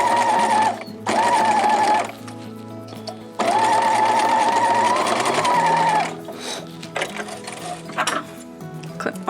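Sewing machine stitching a zipper into a sweatshirt, running in loud steady bursts with brief pauses between runs, the motor whirring continuously during each pass and fainter handling noises as it slows near the end.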